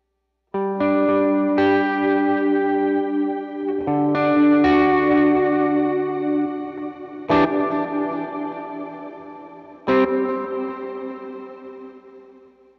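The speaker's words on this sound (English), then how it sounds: "So this is what the delay sounds like." Electric guitar chords with a subtle delay effect adding faint repeats, played alone as a few strummed chords that ring out and decay, loud and close.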